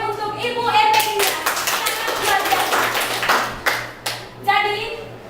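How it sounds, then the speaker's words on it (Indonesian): Audience applause at a classroom seminar session, a burst of scattered clapping that swells and then thins into a few final claps, mixed with low murmuring voices. "mari kita beri tepuk tangan untuk Ibu Ermelinda."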